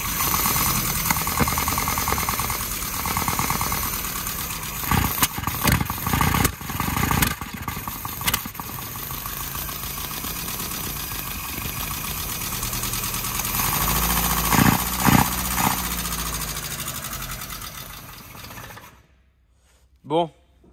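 A Suzuki Samurai engine with badly out-of-adjustment rocker arms, started without choke, runs with a steady, close mechanical idle clatter for most of the stretch, with some louder bursts, before cutting off near the end.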